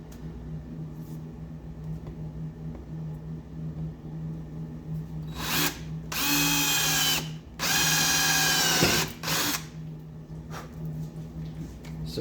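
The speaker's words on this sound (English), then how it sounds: "for sheet metal, you can use one of these step bits" A power drill with a step bit bores through sheet metal on a project car, giving two loud grinding bursts of several seconds each over a steady background hum.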